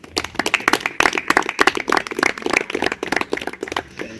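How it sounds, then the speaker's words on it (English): Audience applause at a Youth Day career exhibition, loud, close hand claps in a ragged, uneven rhythm from a modest crowd, with sharp individual claps standing out. "So Leonard Mamarelenka, a round of applause."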